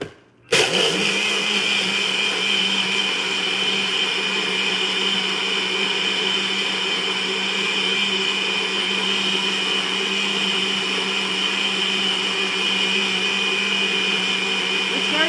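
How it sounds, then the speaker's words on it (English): A blender runs steadily, loud and close, whirring through a coffee smoothie with frozen banana, switching on abruptly after a brief silence and holding a constant high-pitched roar for the rest of the clip, with no talking. "Now it's time to just blend it up."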